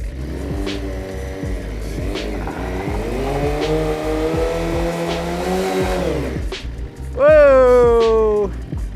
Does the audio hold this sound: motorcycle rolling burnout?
yes